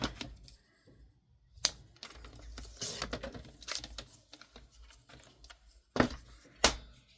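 Paper being folded and snipped with scissors for junk journal embellishments, sharp close clicks and cuts scattered among soft rustling and handling sounds.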